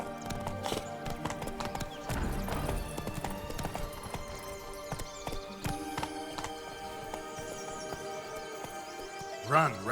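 Hooves of Roach, a horse in The Witcher 3, clip-clop at a gallop in a steady rhythm, close and moderately loud, with game sound effects and a brief loud burst near the end.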